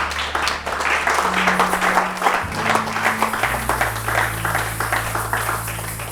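A church congregation applauds the Lord, loud sustained clapping from a large crowd with sustained keyboard chords underneath, continuing steadily throughout without talk.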